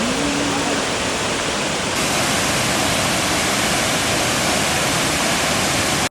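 A stunning waterfall in New Zealand roars steadily, a dense, loud, unbroken wash of falling water filling the whole scene without pause.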